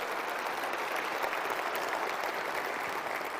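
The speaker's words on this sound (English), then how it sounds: "I think that's worth a round of applause." Audience applause at Sony's PS3 presentation during E3 2005, a dense, even roar of many people clapping in a large hall, holding steady for several seconds with no talking over it.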